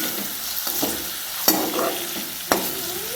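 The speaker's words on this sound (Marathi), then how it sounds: "आपली टेंडल्याची भाजी मस्त अशी फ्राय झालेली आहे" Chopped tinda, or round gourd, fries in oil in a kadhai with a steady soft sizzle, while a spoon scrapes and stirs through it, giving a few sharp clacks against the pan.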